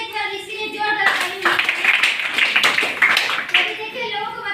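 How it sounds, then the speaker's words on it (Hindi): An audience bursts into applause at a motivational gathering, a dense burst of many hands clapping that swells after a second and continues steadily, with voices mixed in. "फिर से एक बार इसके लिए जोरदार ताली।"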